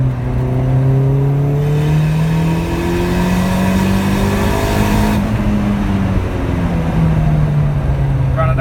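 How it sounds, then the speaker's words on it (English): Turbocharged Callaway Rabbit engine pulling hard in third gear after a downshift, its drone rising steadily in pitch under load, loud and continuous from inside the car. "if I shift down to third and give a little boost,"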